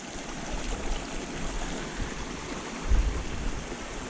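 A woodland creek flows with a steady, soft rush of water. The sound is even and continuous, fairly faint, and no one speaks over it.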